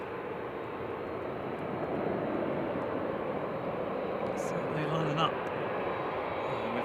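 An Etihad airliner departs at Manchester Airport, a steady broadband jet roar holding at a constant moderate level throughout, with faint voices in the background.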